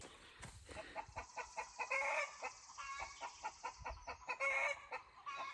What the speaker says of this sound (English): These chickens, they're being very social across the yard at each other.